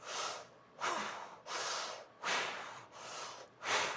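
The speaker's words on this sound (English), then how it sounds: "inhale through the mouth, exhale through the mouth, but as an O. And it feels a little bit like bellows breath" Forceful breathing drawn in and pushed out through a mouth rounded into an O, bellows style, in a steady run of about six loud, airy breaths, each lasting roughly half a second, with short gaps between them.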